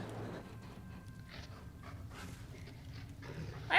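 A dog pants in quick rhythmic breaths with faint whimpers, heard close and fairly quiet, ending in a sharper burst.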